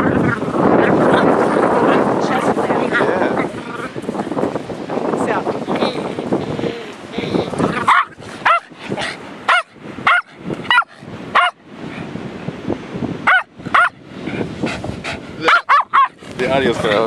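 Dog barking at Rodeo Beach, repeated sharp barks in irregular bursts under heavy wind noise, with people talking nearby.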